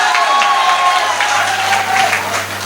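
An audience at a Hindi comic poetry recital applauds steadily throughout, a dense wash of clapping with a faint tone sustained beneath it.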